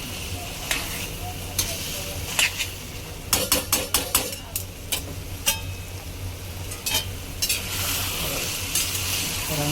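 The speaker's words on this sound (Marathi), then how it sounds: "परतत राहायचं आहे।" Kharda chicken is stir-fried over a high gas flame, a dense hissing sizzle broken by a quick run of loud metal spatula clanks against the pan, with later scattered scrapes.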